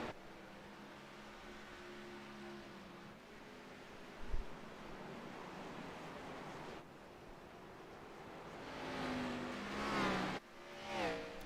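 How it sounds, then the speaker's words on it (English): Race cars circle an oval track at Martinsville in an Xfinity Series race, engines droning steadily at a distance, then rising and dropping in pitch as they shift and rev through the turns toward the end. "Here's some cars shifting, it sounds like."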